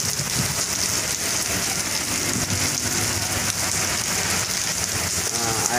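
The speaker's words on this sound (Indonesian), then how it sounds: "karena suasana hujan atau cuacanya hujan" Steady, dense rain pours down at a bus depot in Bekasi, a continuous loud hiss across the whole stretch with no pauses, alone and without talk.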